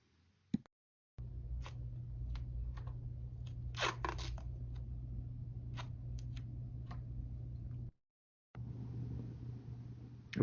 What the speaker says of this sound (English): Tear some extra pieces of tape if desired.